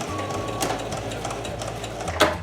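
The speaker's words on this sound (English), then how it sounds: "Now we're going to sew down the edge where our pins are, which is the raw edge of the fabric." A sewing machine stitches down the raw edge of scrunchie fabric, running with a steady, fast mechanical whirr and rhythmic needle clatter for a couple of seconds, close and clear.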